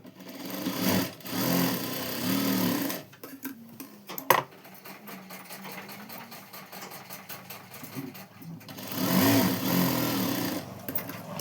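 A domestic sewing machine stitches tucks in a sheer umbrella dress, whirring in short bursts with a clicking, rhythmic mechanism and quieter pauses between runs, close and fairly faint.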